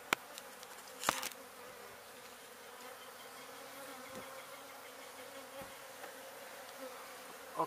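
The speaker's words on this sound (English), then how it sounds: "Them bees, mister." Bees buzz steadily from a hive under a travel trailer, a continuous close drone with a few sharp knocks and rustles cutting through.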